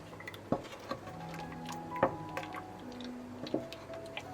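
A spoon stirs heated, salted milk in a pot, giving soft clinks against the metal about every second and a half over a low, steady background hum.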